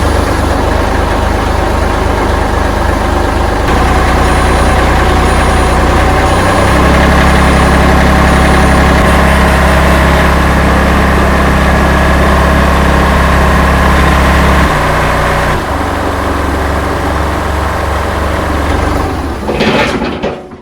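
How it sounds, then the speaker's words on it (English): A heavy tractor diesel engine cranks, catches and settles into a loud, steady idle close by, shifting pitch a few times before cutting off near the end. "I'm going to go ahead and see if the tractor will start"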